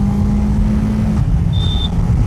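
A BMW F450 GS motorcycle engine shifting from second into third gear without the clutch: a loud, close, steady engine drone whose pitch drops partway through at the shift, then continues running.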